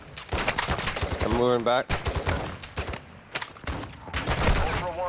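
Rapid bursts of gunfire in Call of Duty DMZ, close and loud, with repeated shots rattling across the clip while players talk over the shooting.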